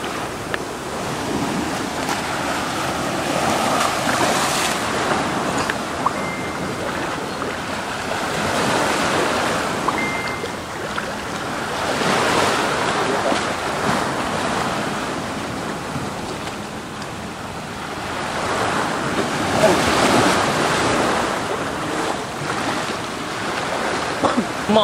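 Sea waves washing onto the shore in slow recurring surges, each swell rising and fading over several seconds, with wind buffeting the microphone and faint voices at times.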